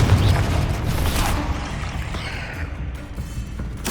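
A Confringo blast spell from Hogwarts Legacy erupts with a loud, booming burst at the start, then a rumbling, crackling fire tail that fades across the rest of the moment.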